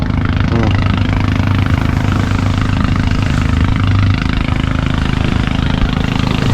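A small drone flies close by, its steady high buzzing whine running throughout over a busy outdoor family gathering, with people talking and calling out over it.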